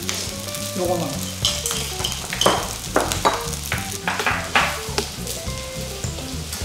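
Pork intestine and kimchi fried rice sizzles steadily on a hot grill pan, spread flat over a crisping rice crust, with bursts of stirring and scraping throughout and a brief spoken phrase over it.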